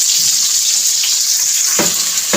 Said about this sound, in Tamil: எண்ணெய் ஊற்றி கடுகு போட்டு வெந்தயம் போட்டு சின்ன வெங்காயம் கருவேப்பிலை போட்டு இதெல்லாம் போட்டு நல்லா வதக்கிட்டுருக்கு